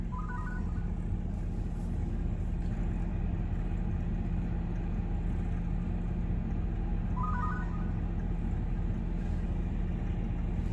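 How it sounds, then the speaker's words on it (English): A 2003-2007 GM car engine runs at a slightly raised fast idle, a steady low rumble heard from close by with no talking. A faint high chirp comes in twice. "I do have a little bit of fast idle right now."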